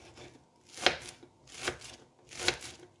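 A knife slices horizontally through shallots on a cutting board, giving three distinct crisp cuts at a steady rhythm, close and fairly quiet.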